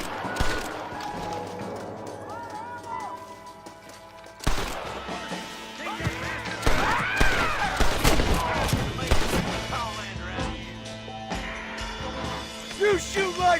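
Gunfire in a Red Dead Redemption shootout: sporadic shots and short volleys of varying distance, with music and game sounds underneath and men calling out in between.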